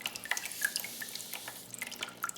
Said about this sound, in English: The water is being pumped in 3 directions.